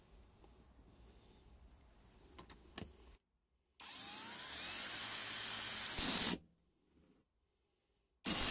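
A Parkside Performance PDSSAP 12 A1 12 V impact driver drives a screw in one loud burst of about two and a half seconds, a buzzing, rising whir between quiet stretches, with faint handling noise before it and no talk.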